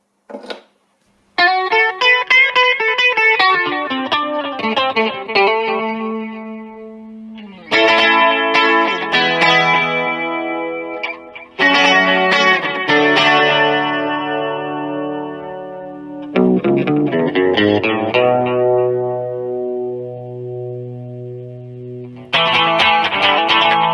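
Clean, shimmering electric guitar notes and chords through a Vox VX15GT amp ring out with a glassy, slightly chorused tone, phrases separated by brief pauses.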